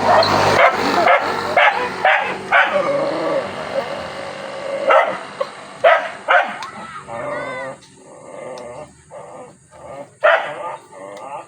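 Dogs bark in repeated bursts, with yips and whimpers mixed in, while people talk over them casually around a home where a satellite dish is being installed.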